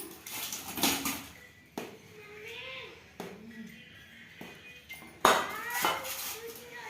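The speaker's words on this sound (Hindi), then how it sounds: "अब मैं बैंगन को थोड़ा इस तरह से चाकू से चोट देती हूँ।" A knife strikes an eggplant on a cutting board while preparing litti chokha, giving a few sharp, separate knocks spread over several seconds, with someone talking in between.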